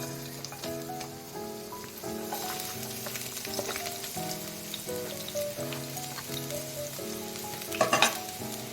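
Finely chopped ginger and garlic fry in about three spoons of oil in a pan on a stove for Gobi Manchurian, giving a steady, soft crackling sizzle. Gentle background music plays underneath, with a brief louder burst of stirring near the end.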